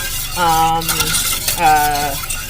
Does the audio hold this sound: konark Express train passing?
no